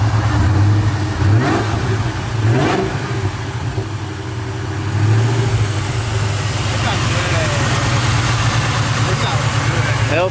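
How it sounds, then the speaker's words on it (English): A Ford Mustang Terminator Cobra's engine runs loud and close, droning steadily with rises and falls in revs while people talk over it. "You want to give it a little bit of revs?"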